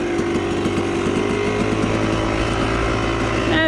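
A 250cc dirt bike engine labours steadily up a hill by a creek, a loud, close, continuous droning rev that holds near constant throughout.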